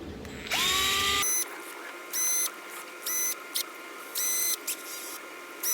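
A DeWalt gyroscopic power screwdriver backs screws out of the carburetor manifold on a vintage outboard motor, whirring in about five short, close bursts separated by quiet pauses.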